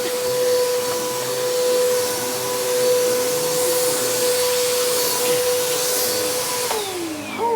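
A Bissell Powertrak Compact vacuum cleaner running and sucking, a loud steady whine with a strong airy hiss that holds throughout before a short pitch change near the end.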